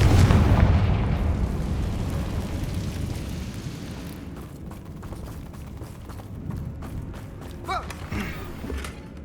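A Confringo spell explosion in the video game Hogwarts Legacy opens with a loud, deep boom that decays into a long rumbling, crackling tail, followed by faint scattered debris clicks.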